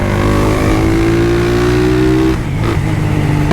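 A modified Honda Twister motorcycle running on ethanol drones close and loud, its engine note climbing steadily before dipping briefly and settling back, with no voices.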